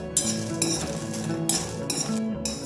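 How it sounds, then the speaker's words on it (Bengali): Dry red chilies stirred with a metal spatula in a dry wok over a gas stove, repeated bright scraping and clinking strokes in a loose rhythm, close and fairly loud, with a low steady hum underneath. "প্রথমে লঙ্কাটা দিয়ে দিলাম, এটাকে হালকা করে একটু নেড়ে নেব।"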